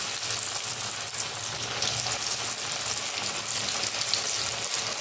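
Food fries in a pan with a steady, close hiss and crackle of hot oil that holds even and continuous, with no talk over it.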